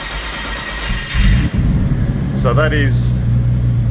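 A stone-cold car engine idles on its own right after a cold start, a steady low rumble close to the microphone with a brief rise in revs, while someone talks over it.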